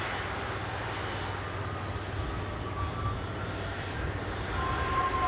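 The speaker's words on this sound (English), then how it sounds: "Air Transat. Airbus A330 just landed in from Toronto." An Air Transat Airbus A330 lands at Manchester Airport with a continuous, broad jet roar. The roar stays fairly loud and even, with no voices over it.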